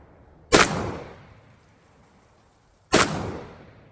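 Two loud shotgun blasts from a Browning A5 12 gauge semi-auto firing slugs outdoors, spaced about two seconds apart, each with a sharp crack and a lingering rumbling echo.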